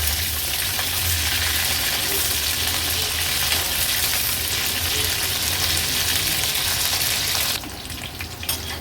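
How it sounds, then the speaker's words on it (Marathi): Raw jackfruit pieces deep frying in hot oil over high heat, giving a loud, dense, unbroken roar of bubbling sizzle up close that shifts and thins slightly near the end. "आपण हा फणस हाय वर डीप फ्राय करून घेतला आहे"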